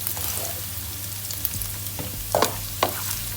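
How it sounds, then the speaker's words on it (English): Ginger and garlic sauté in a pan for vegetable noodles, giving a steady sizzle with a few sharper spatula scrapes and clicks near the end, close and without talk. "ginger, and garlic. Okay, you have to saute until brown color."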